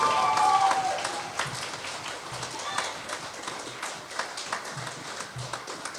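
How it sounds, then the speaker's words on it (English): Applause from an audience at a student media awards ceremony, a dense wash of many hands clapping that stays steady and fairly loud throughout, with scattered cheers mixed in. "So we can give a big round of applause to Monica, please."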